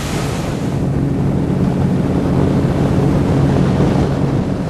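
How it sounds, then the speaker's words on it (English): Treated wastewater pours from a discharge structure into a river in a national recreation area, a steady, loud broadband rush of flowing water with a low rumble, continuous and unbroken throughout. "this is treated wastewater that's getting discharged straight into the river system"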